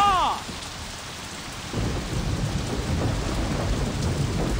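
Steady video game rain in Saints Row patters and hisses on surfaces, growing a little heavier after a couple of seconds, with a brief electronic chime at the start.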